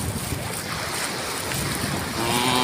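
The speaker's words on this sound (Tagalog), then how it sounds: "Yun nga lang, maalon yung dagat." Rough sea waves at Lingayen seaside beach in Pangasinan roar steadily, with heavy wind buffeting the microphone and a brief tonal sound near the end.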